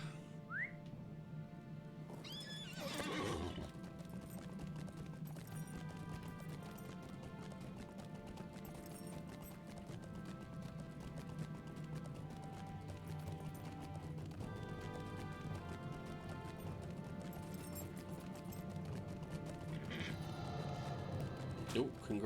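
Horse from the Lord of the Rings Online game, rhythmic clip-clop of hooves running steadily throughout with whistling tones and a brief neigh, while someone talks over it.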